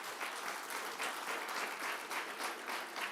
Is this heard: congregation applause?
yes